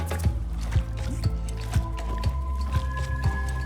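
Slime drips in a video game, landing as soft, squishy low thuds in a steady beat roughly every half second, in time with droning ambient music and tones.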